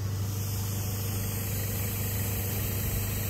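Vehicle engine running steadily at low revs as it pulls away back up a bush track near Tallarook, a constant low hum with faint vibration and no voices.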